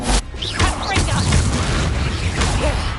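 Booming spell blasts and bursts from Hogwarts Legacy combat, several loud pops and crashes overlapping in quick succession with a shouted voice among them.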